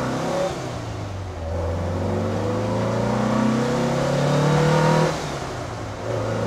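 A restored Porsche 911 engine revs up loudly inside the cabin, nearly 100 decibels, its pitch climbing steadily through a gear before dropping at a shift, then rising again.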